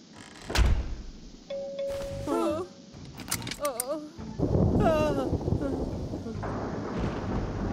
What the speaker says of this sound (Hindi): ये महज तूफान का झटका था।